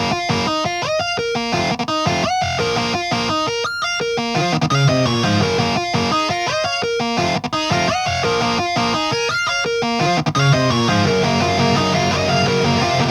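Lead, rhythm and harmony electric guitars play together, heavily distorted, the harmony part using the middle pickup; a dense, continuous full-band wall of sound with steady rhythmic chops and sustained notes throughout.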